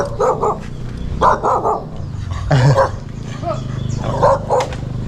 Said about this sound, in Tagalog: Ang laki ng aso.